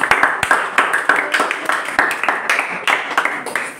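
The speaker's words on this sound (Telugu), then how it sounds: "వెరీ గుడ్, క్లాప్స్ కొట్టండి" Students in a maths classroom clap together: a lively burst of many overlapping hand claps, close and uneven, running steadily for several seconds.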